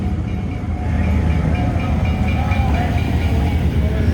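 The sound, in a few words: train starting up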